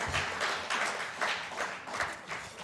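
Moderate audience clapping during a poetry reading, coming in uneven surges and swells over a few seconds, fairly soft and somewhat distant.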